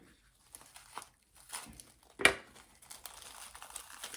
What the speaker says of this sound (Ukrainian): те, що скотч здирається з назвою